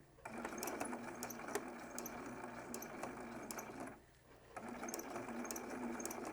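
A sewing machine stitches around a small fabric AirTag keychain, running in a steady fast whir with a short pause near the middle before starting up again; quiet and close.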